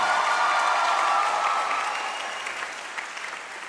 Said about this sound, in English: Can you please give Miss Jones a hand?